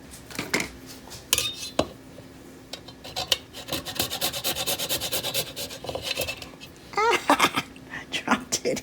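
Whole nutmeg rasped against a grater in repeated close scraping strokes, some bursts rapid and some spaced, with a voice talking in between and kitchen clatter.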